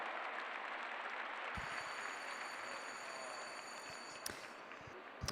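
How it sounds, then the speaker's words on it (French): Applause from an evening show jumping crowd at an indoor CSI5* event, a dense steady wash of clapping across the whole stretch with a few sharper knocks near the end. "Je crois que ça mérite une nouvelle fois d'entendre des applaudissements pour le numéro 1 meilleur cavalier au monde."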